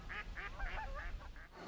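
Ducks quacking in a wooded city nature park, a run of about six short nasal quacks in quick succession, fairly close and clear over a low outdoor rumble.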